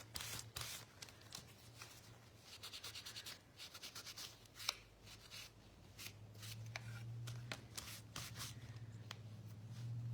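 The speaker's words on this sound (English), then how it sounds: "I'm just trying to get the wax on and buff it off." Wax being rubbed and buffed onto a piece of wood by hand, heard as close, rhythmic scrubbing strokes that come in quick bursts over a low steady hum.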